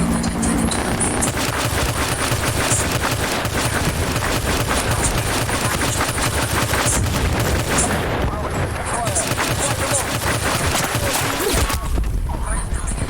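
Video game battle with sustained loud gunfire, rapid automatic bursts and heavy booms packed together almost without pause, with a couple of short dips where the shooting thins out.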